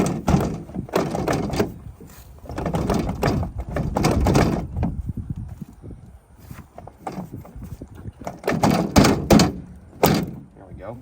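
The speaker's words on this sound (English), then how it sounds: "We haven't opened the door yet." Repeated dull thunks and bumps come from working at the door of an old cabover truck that has not been started in 25 years, arriving in bursts with pauses between them while people talk nearby.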